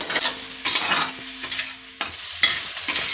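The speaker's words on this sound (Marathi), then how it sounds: "आपला काळा कुट्ट सोया सॉस इकडे लाल भडक होईपर्यंत भाजायचा." Soya chunks with dark soy sauce fry loudly in a pan while being stirred, bursts of scraping and sizzling repeating in an uneven rhythm, close and prominent.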